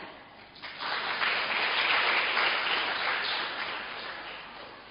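A church congregation bursts into applause during a Sunday sermon, clapping swelling quickly into a full, sustained round and then easing off slightly.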